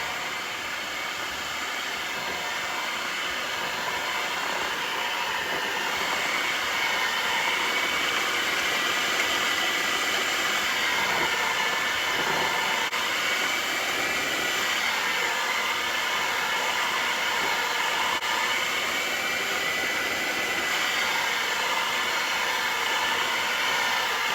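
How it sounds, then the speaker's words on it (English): An electric stand mixer hums steadily on low speed, mixing red velvet snowball cookie dough with egg and flour added, a constant whirring drone with no talk. "now I turn my mixer down to low"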